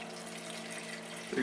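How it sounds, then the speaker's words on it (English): Ice water runs from a refrigerator dispenser in a home kitchen during venison sausage and jerky making, a faint, steady hiss of flowing liquid with no one talking. "Right here we need to get some ice water out of the refrigerator."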